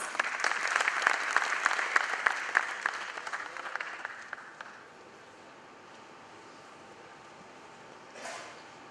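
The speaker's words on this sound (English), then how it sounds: "Let's welcome sir with a round of applause." Audience applause welcomes a speaker at the inaugural session of an IT awards ceremony, steady dense clapping for about five seconds, then fading to quiet room tone with a brief rustle near the end.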